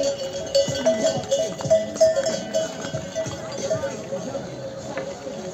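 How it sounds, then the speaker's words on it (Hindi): Horses walk along the Kedarnath mountain footpath from Gaurikund, a light irregular clip-clop of hooves over a busy trail with people talking and ambient noise throughout. "अरे घोड़े फिर भी आ रहे हैं"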